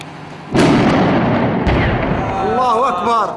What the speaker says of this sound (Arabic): قصف عنيف على مدينة الرستن بمدفعية الفوزديكا